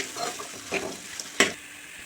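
Onion and curry leaves frying in a pan make a soft sizzle, broken by a few brief stirring scrapes and one sharper clink near the middle.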